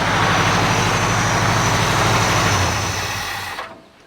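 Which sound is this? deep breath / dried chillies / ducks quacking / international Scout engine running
international Scout engine running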